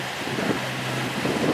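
Steady wind rushes over a sailboat in the lee of an island, a continuous broadband roar with mild swells as gusts come and go, no talking.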